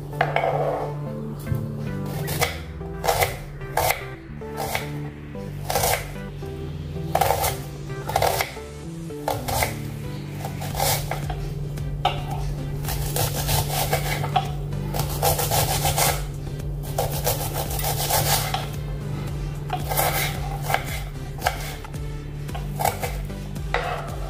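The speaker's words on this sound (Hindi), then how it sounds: "अभी हम प्याज को काटेंगे" A knife chops an onion on a cutting board in a home kitchen while a Gujarati sev curry is prepared, giving a long run of sharp, fairly regular close knocks, sometimes in quick bursts, with a low steady hum underneath.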